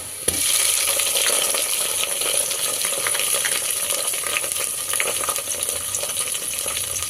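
Onions and tomato pieces fry loudly and continuously in a pan for eggplant biryani, a dense, steady sizzle and crackle held close up from start to finish, with a sharp tap at the outset and no talking.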